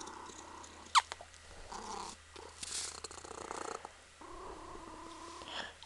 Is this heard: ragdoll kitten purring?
yes